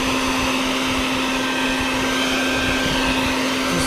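A vacuum cleaner runs with a constant loud whine and roaring airflow, sucking up bees from a deck at a rental property, steady throughout with no voices.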